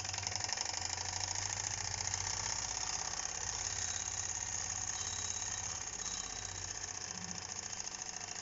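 A Wilesco D365 model steam roller running jacked up with its wheel spinning freely, giving a continuous rapid mechanical chuffing and whirring with a steady low hum, close and even throughout.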